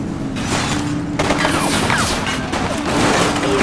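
A loud fusillade of gunfire in the police video game The Precinct, with repeated overlapping shots and crackling bursts rolling on for several seconds over a constant low drone.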